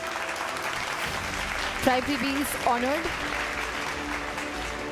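Audience clapping at an award ceremony, the Uttkarsha Samman 2023, a steady wash of applause under a voice speaking over a microphone.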